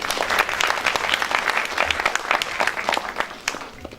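An audience at a stage drama performance claps for a first-time actor. Dense, steady applause runs throughout, loud and close at first and thinning slightly toward the end, with no voices over it.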